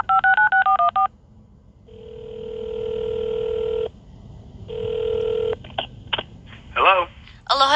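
Touch-tone keypad beeps dial a telephone number in a quick series of about six short tones. Two long ringback rings follow with a pause between them, then brief clicks and a few chirpy sounds as the call connects.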